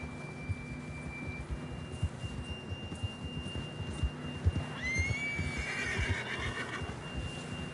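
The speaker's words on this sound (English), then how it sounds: "John was riding that horse when we left Blackwater." A horse whinnies partway through in Red Dead Redemption 2, a rising then wavering neigh over a steady game background of low thumps and a faint held tone.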